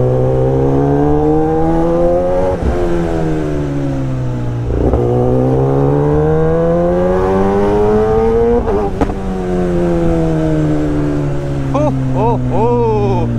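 A loud Kawasaki ZX10R motorcycle at a market meet roars close by, its engine held at a steady, throaty rev that dips and climbs again several times over thirteen seconds.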